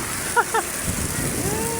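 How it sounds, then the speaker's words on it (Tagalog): Steady heavy typhoon rain hisses across the whole clip, a dense broadband wash, with a couple of short voiced sounds rising briefly near the start. "Bumuhos ang ulan."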